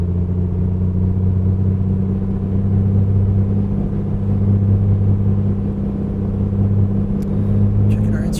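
A simulated single-engine piston aircraft engine in Microsoft Flight Simulator runs up to 2,000 RPM, a loud, constant droning hum with a steady low-pitched tone held throughout, with a few faint clicks near the end.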